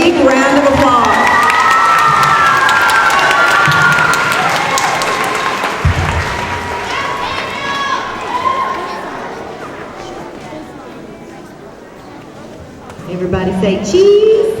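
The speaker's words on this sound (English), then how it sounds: "If you'll give them a big round of applause." An audience at an elementary school award ceremony breaks into loud, sustained applause and cheering, with children shouting and chattering throughout. The noise gradually fades, then swells again briefly at the end.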